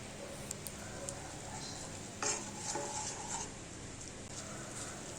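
Masala spices fry and get stirred in a pan, a soft sizzle under occasional scrapes and clinks of a spoon, quiet and close.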